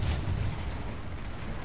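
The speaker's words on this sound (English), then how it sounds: "Throw my grenade out." A grenade goes off in a video game: a single deep, rumbling boom that opens loud and rolls on as a steady low roar for the rest of the moment, with no voices over it.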